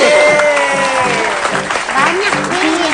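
A studio audience on an Indonesian talk show applauds while a light musical sting plays, sustained clapping throughout with voices and melody layered over it.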